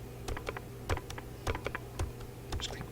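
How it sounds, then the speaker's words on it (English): A computer mouse clicked repeatedly while calling on students in classroom response software, giving an irregular run of a dozen or so sharp, close clicks with short pauses between them and no voices. "just keep clicking until you find a student that you want"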